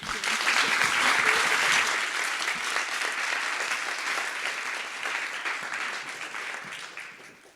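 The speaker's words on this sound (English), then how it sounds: "Let's give them a big round of applause." Sustained applause from an audience at senior project presentations, a dense, steady patter of many hands clapping that fades slightly toward the end, with no speech over it.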